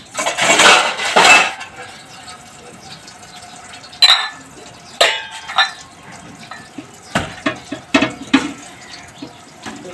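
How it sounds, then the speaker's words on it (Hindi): Dishes and cutlery clatter and clink in a sink, with bursts of running water from a tap and scattered sharp knocks of pots and plates, in a Pakistani village home. "बर्तन धोते हैं।"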